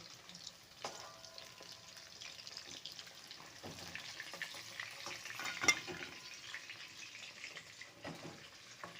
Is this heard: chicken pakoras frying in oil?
yes